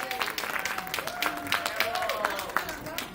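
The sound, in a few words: audience applause for the MSCA president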